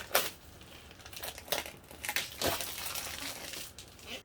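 Plastic wrapping is torn and pulled off a Cricut machine box, giving a run of close, crinkling and crackling bursts with short pauses between.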